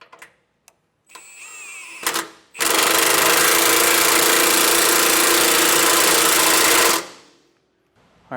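Impact or ratchet tool snugging the rear bolts of a Hellwig front anti-sway bar on a 2020 Thor Four Winds RV with a 17 mm socket: a loud, steady mechanical whir lasting about four seconds after brief clicks and taps.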